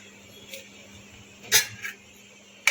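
A spoon scrapes and knocks against a pot of rice pudding cooking in milk, a few sharp metallic clinks spaced apart over a low steady hum, quiet and close, with no talk.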